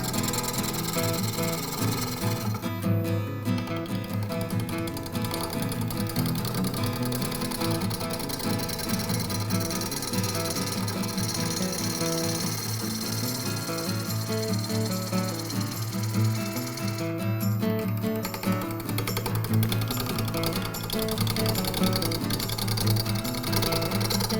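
A woodturning lathe spins a three-foot natural-edge wooden bowl as the tool cuts steadily, making a loud, continuous rattling chatter with a persistent low hum and two brief dips where the cut eases off.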